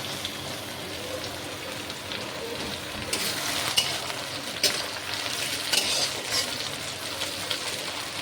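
Chopped tomato fries with browned onion and chuijhal in a duck meat curry base, giving a soft, even sizzling hiss with occasional stirring scrapes, moderately close and steady.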